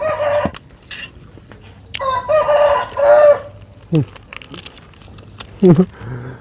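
A rooster crows several times at close range, with long harmonic calls breaking out between clucks and rustling from farm fowl.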